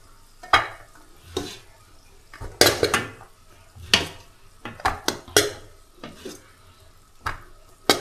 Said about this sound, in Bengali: এখানে একটু ডিম ভাজছি